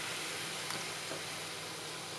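Bánh 3 trứng dough fries in hot oil for a street-style snack, giving a continuous, even hiss of sizzling with no breaks, fairly close and unaccompanied by talk.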